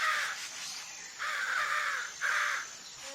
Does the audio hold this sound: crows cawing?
yes